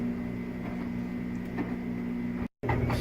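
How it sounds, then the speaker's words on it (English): Splendide 2100 washer dryer combo on its regular wash cycle, a steady low mechanical hum with faint clicks, close by, cut by a short gap near the end. "I think this is just its regular washing cycle."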